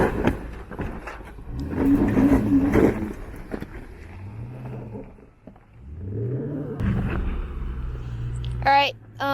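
Jeep Grand Cherokee engine revving under load as it climbs rock on an off-road trail near Sedona, a low rumbling drone with rising surges, heard under people talking.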